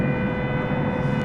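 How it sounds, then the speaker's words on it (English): A steady, droning siren-like tone from airport ground equipment at DFW Airport at night holds constantly over a low broad rumble. "we got that air start going again, or whatever that siren type sound is."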